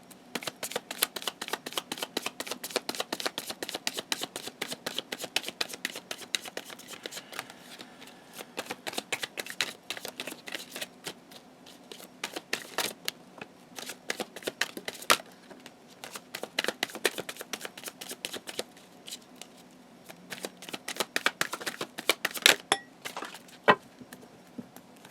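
Chakra Wisdom Oracle cards shuffled by hand, rapid close riffling flutters in repeated bursts with brief pauses between, crisp and fairly quiet, no talking.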